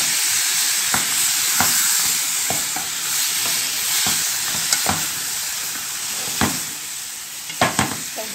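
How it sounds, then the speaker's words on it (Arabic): Liver with onions and spices is stirred in a hot pan, giving a steady loud sizzle with scattered scraping clicks from the utensil and no voices. "ابدا بقى اقلب الخليط ده كله كده"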